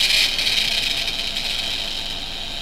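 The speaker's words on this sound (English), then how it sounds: "you start to spin a wheel" A Wheel of Fortune plug-and-play TV game wheel spins with a steady bright whirring clatter that starts loudest and gently eases off, with no voices.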